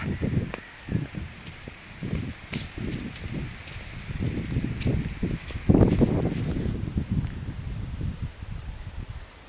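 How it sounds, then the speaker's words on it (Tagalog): Gusty wind during Typhoon Opong, with no rain: irregular low rumbling bursts of wind buffeting the microphone, rising and falling in gusts, with one stronger surge partway through. "Bugso-bugso lang ang hangin mga idol"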